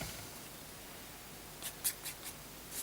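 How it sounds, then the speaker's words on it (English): A few crisp scissor snips cut a mould for a mixed media canvas, four or five short sharp clicks in the last second after a quiet pause, close and fairly soft. "I'm just going to snip that side as well"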